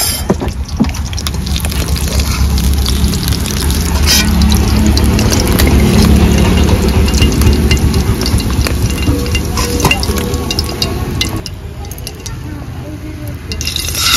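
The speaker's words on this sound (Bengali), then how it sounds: "এই মাছগুলো তো ভাজা হয়ে গেছে," Fish sizzling as it fries in hot oil for a pumpkin and bata fish curry, a loud, close, continuous crackle that thins out near the end, with faint talk in the background.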